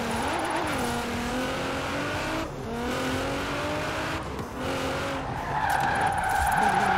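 A car drifting in the Forza Horizon racing game, its engine revving and rising and falling in pitch while tyres squeal and skid repeatedly through sliding turns, loud and close with no talk.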